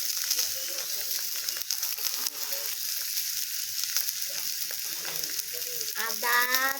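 A ground coriander and cumin paste with dried chilies sizzles and fries in a pan as the base of a katol fish curry, with stirring scrapes. The sizzle is a continuous, close crackle throughout.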